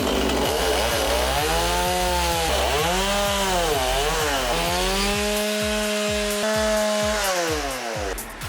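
A chainsaw cuts into a log while a bear is being carved, the loud close engine revving up and down in rising and falling whines with rhythmic bogging as the chain bites the wood.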